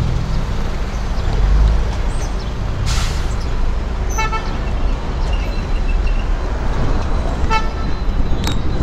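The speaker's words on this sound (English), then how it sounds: "As you can see, there are lots of vehicles, quite traffic jam now." Heavy street traffic jammed on Baniyadala Road in Yangon, a steady roar of cars and buses with several short horn toots sounding near and far through the congestion.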